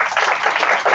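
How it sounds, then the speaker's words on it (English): Applause from an audience at a community board meeting, a dense steady wash of many hands clapping throughout a short burst, fairly loud and close with no voices over it. "she does deserve a round of applause."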